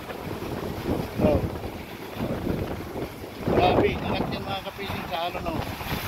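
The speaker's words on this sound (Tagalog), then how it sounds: "Sobrang lakas ng alon, tumaangat ang tubig, umaangat." Strong typhoon wind buffets the microphone at sea during Typhoon Egay, with heavy waves surging in gusty bursts; the roar swells and fades repeatedly, and faint voices may be mixed in.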